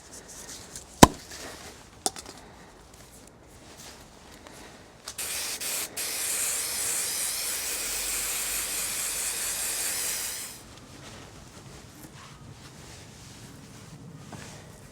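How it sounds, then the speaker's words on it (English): Spray adhesive hissing from a can onto carpet being fitted over plywood, a steady broadband spray lasting about five seconds after a couple of sharp clicks, close and fairly loud. "Once that's tacky, we spray the carpet"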